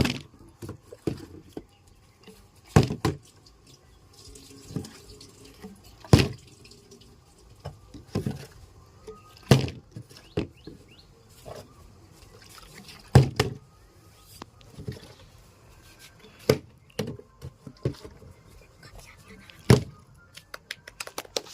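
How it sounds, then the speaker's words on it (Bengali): Water bottles are flipped in a game and land with sharp thuds and clatters, roughly a dozen separate impacts at irregular intervals against a quiet background. "যে বোতল ফ্লিপ করতে পারবে সেই পাবে খাবার"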